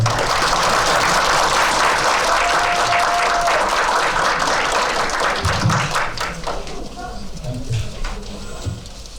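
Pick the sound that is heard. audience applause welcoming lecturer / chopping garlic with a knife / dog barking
audience applause welcoming lecturer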